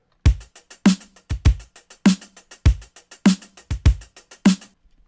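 Clean drum layer from a drum loop, tight punchy kicks and snares in a steady looping groove with crisp hats between them, dry and close with no voices.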